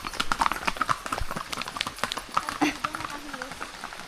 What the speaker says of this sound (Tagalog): lakas yan mga kabayo